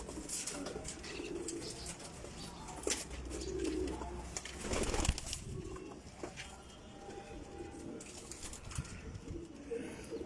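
Teddy pigeons coo softly in a loft, low murmuring calls repeating under a busy background with occasional rustles and a wing flap.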